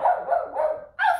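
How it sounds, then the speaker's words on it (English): A dog barks next door, a few repeated yapping barks in quick succession, moderately loud and somewhat distant, with no talking over them. "The dog's out next door."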